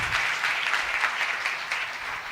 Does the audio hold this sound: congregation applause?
yes